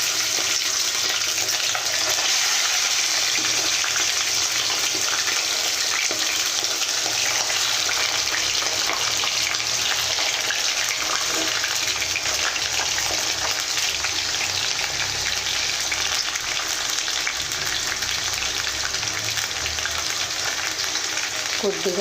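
Chicken pieces frying in hot oil for a spicy chicken fry, giving a steady, close, continuous sizzle and crackle that runs unbroken from start to finish with no talking.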